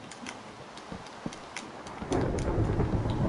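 Rain and thunder from the Minecraft game world form a steady hiss with soft ticking drops, growing louder and denser partway through as the downpour thickens, with no talking over it.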